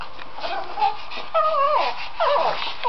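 A dog whimpers in short, high, wavering whines, three or four separate bursts over a quiet background.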